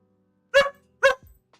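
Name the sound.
dog barking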